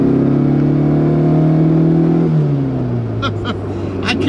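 A 1983 Autobianchi A112's small engine hums steadily, then its pitch drops as it shifts, followed by a few short revs near the end.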